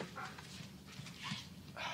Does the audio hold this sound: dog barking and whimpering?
yes